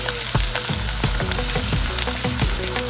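An egg frying in butter with onion and garlic added, a steady loud sizzle under a run of regular utensil scrapes and taps, roughly every half second.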